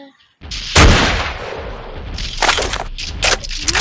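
Shotgun blasts in the video game Dino Hunter King: a loud sharp boom, then two more bursts a couple of seconds later, with a voice faintly underneath.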